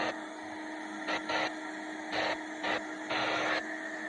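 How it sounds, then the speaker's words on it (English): A blow dryer gives a steady electric whir with several louder bursts of rushing air, close and fairly loud, switching on and off at irregular intervals while pressed onto hair. "I just take the blow dryer and push it to my, smash it down"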